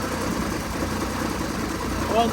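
A Dodge Ram 2500's Cummins diesel engine idles with a bad misfire, giving a steady, rough, uneven low rumble that stays close and loud throughout the short stretch.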